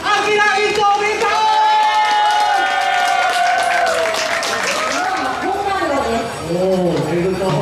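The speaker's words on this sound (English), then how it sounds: "big applause for Akira!" Guests at a whole bluefin tuna cutting event at Nihon Matsu applaud and cheer as a Japanese chef is welcomed. Loud clapping mixes with whoops and excited voices throughout.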